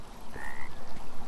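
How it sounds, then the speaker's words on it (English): Frog croaking in the video game Beyond Eyes, a rapid rhythmic series of low croaks, fairly close and clear over a soft outdoor ambience, no talking. "That's a frog."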